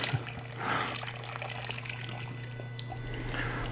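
Coolant poured steadily into the cooling system of a Nissan 300ZX in a garage, a soft continuous trickle and splash, faint and close, with a low hum beneath.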